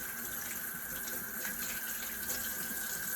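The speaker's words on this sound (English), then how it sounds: "Then you're going to want to rinse thoroughly so you get all the soap off." Tap water runs steadily into a sink while soapy hands are rinsed, a continuous even splashing hiss with no talk over it.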